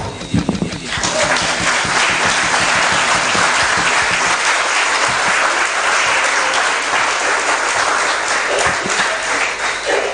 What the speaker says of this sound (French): Je vous demande, mesdames et messieurs, sincèrement, avec force, d'applaudir cet événement